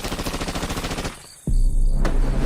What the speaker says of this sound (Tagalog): Abay, putok ng paril yun ah.